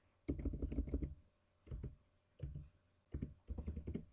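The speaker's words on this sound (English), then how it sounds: "So here I'm going to type yes." Computer keyboard typing comes in quick bursts of close, soft key clicks separated by short pauses, fairly quiet and with no talking.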